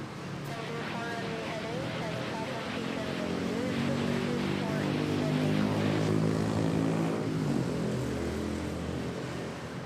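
A China Airlines Airbus A330 airliner waits on runway 06 at Manila Airport, producing a loud, steady jet engine roar with slowly shifting tones under continuous speech.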